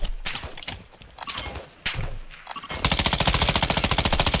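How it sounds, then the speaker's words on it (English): Automatic gunfire in the DMZ shooter game: scattered shots early on, then a sustained rapid burst of loud, evenly spaced rounds for the last second and a half, with no talk. "I shot Crowley"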